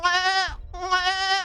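A goat scream from a video game gives two loud, harmonic bleats, each roughly half a second long, separated by a brief gap, close and alone.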